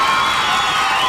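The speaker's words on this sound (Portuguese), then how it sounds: "Uma salva de palmas," A loud, close crowd at a New Year's Eve show applauds and cheers, a dense, continuous wash of clapping and shouting voices.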